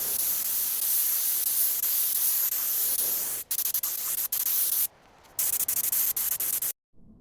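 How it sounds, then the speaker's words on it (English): Harbor Freight spray gun laying top coat onto a utility trailer outdoors in light wind, a steady close hiss of atomized paint that runs continuously, then breaks into short bursts and stops with brief silent gaps as the trigger is released. "spraying the top coat, it wasn't as windy as it was when I did the primer"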